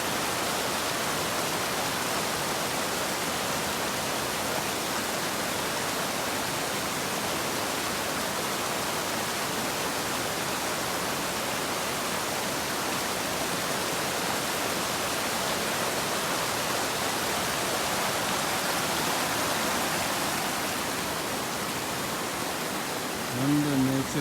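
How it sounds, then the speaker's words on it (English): Steady broadband rush of a river flowing down from the south face of Mount Kailash near a guest house, continuous and fairly loud throughout with no pauses, like close running water. "from here there is a beautiful river"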